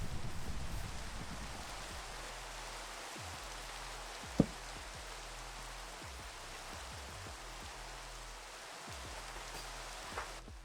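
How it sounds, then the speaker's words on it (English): Steady hissing rain falls in a video game, a soft continuous wash with a faint low rumble underneath and a single sharp click partway through. "the sound of the rain isn't bad"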